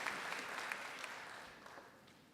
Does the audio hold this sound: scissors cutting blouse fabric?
no